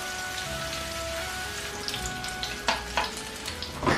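Chicken kofta balls shallow-fry in a little oil with a steady, rain-like sizzle and a few sharper pops toward the end, heard alone without talking.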